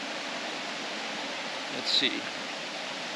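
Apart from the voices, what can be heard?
river flowing in Iao Valley, Maui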